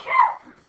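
A single short, sharp sneeze, close and fairly loud, over quickly with a soft tail.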